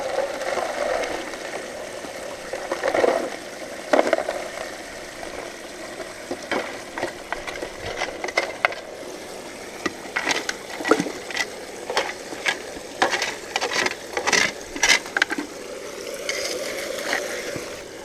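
Pump-fed spray bar pouring water through a homemade fluid bed high banker sluice box, a steady close wash of running water with scattered sharp splashes and clatter across the stretch.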